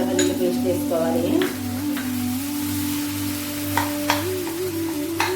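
Ginger garlic paste being stirred into a sizzling capsicum and paneer curry: a steady frying hiss with a few scraping and clinking utensil sounds, a low hum beneath, and brief speech.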